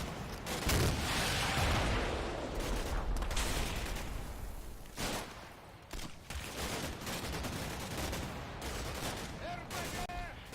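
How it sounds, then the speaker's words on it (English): Small arms fire and RPG blasts in the World War II strategy game Combat Mission Battle for Normandy, a dense ongoing rattle of distant shots and booms at night, with muffled voices faintly underneath. "they start getting hammered with RPGs and small arms"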